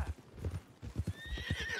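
A horse gallops with quick rhythmic hoofbeats in Red Dead Redemption 2, then lets out a high, wavering neigh near the end of the short burst.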